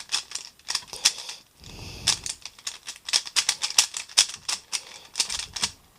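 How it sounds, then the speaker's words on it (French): Quick bursts of clicking and clacking plastic as a 3x3 Rubik's cube is twisted rapidly, close and fairly loud, in uneven clusters with short pauses between. "Donc déjà je vais mélanger le cube."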